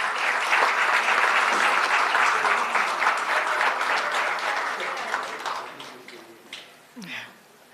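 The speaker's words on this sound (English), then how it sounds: "A big round of applause to all of them." An audience at an ICR Day and HPGA Founder's Day event applauds in a dense, sustained wash of clapping that fades out over the last few seconds, with faint voices near the end.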